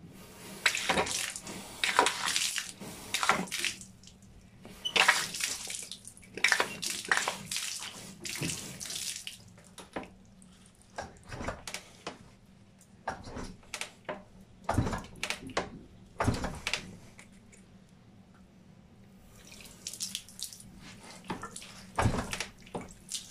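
A water jet spraying into the radiator and bodywork of a KTM 125 SX motocross bike, coming in loud hissing bursts of several seconds separated by short pauses, close up.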